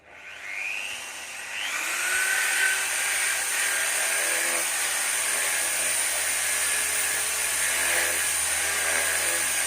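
A power drill whines up and runs continuously at high pitch, steady and close, with a faint grinding edge as it bores into a gourd.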